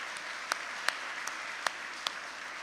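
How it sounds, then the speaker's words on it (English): Audience applause at a 2019 awards event, a steady wash of clapping with a few sharper individual claps standing out, moderately loud and without speech. "So let's give you a big round of applause."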